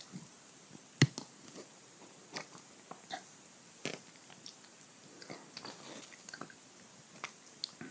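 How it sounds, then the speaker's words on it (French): Slow, quiet biting and chewing of a juicy piece of food, soft crunches and moist squishes spaced irregularly with a couple of sharper bites, close and intimate in an otherwise silent room. "Puis croquer une nouvelle fois, tout doucement."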